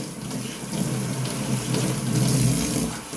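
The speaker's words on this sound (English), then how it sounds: "As for your brush, just make sure it's rinsed out real good." Steady rush of running tap water over a sink, close and fairly loud, as a shaving brush is rinsed clean, with the flow shifting slightly as the brush moves through the stream.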